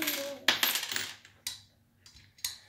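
Coins are dropped into a piggy bank one after another, producing several distinct clinks and jingles at an irregular rhythm, close and fairly quiet.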